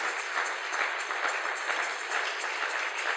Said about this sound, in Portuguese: Aplaudir fortemente pela palavra de Deus.